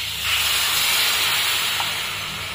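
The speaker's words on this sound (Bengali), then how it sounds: "এর মধ্যে এবার জল দিয়ে দেবো" Water poured into a hot pan of fried prawns and vegetables, bursting into a loud, continuous steamy hiss that swells quickly and holds steady, close up with no talk.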